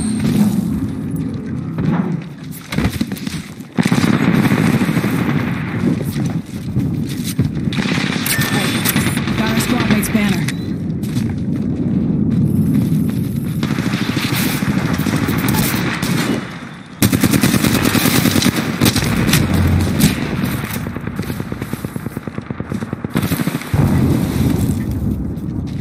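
Bursts of automatic gunfire and loud booms fill a firefight in the Apex Legends video game, with rapid rattling volleys broken by brief lulls and voices talking at times.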